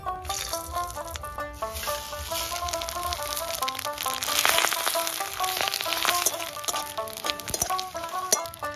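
Dried chilli, cumin and bay leaf crackle and sizzle in hot oil as a tempering for khichuri, a steady frying hiss that sits under louder background music.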